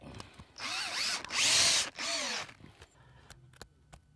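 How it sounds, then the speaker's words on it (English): A power drill drives stainless steel number 10 screws through roof shingles and flashing into the decking, three loud, close bursts of whirring with rising and falling pitch, followed by quieter clicks and handling noises. "we're gonna drill through the shingles, through the flashing into the decking."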